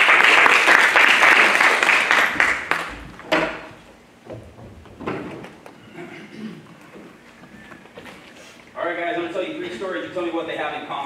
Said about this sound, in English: Everybody give Bobby a round of applause.